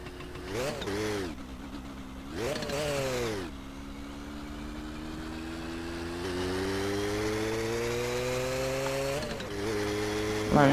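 A small motorbike engine in the driving game My Summer Car revs and drones steadily, rising and falling in pitch across a series of throttle pulls, with a voice talking over it now and then.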